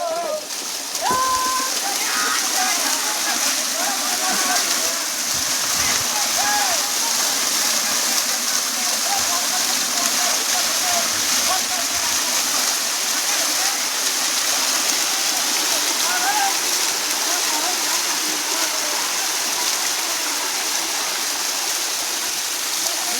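Torrent from a burst village dam, a loud, constant roaring rush of flowing water that fills the whole scene without letting up, with faint shouting voices under the noise.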